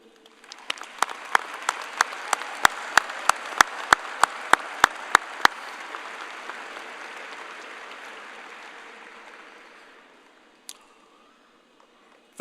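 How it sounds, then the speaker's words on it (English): Audience applause at a 2023 high school commencement for the graduates' parents, a broad wash of clapping with a few sharp loud claps near the front, building and then fading out over about ten seconds. "I'd like to give them a round of applause"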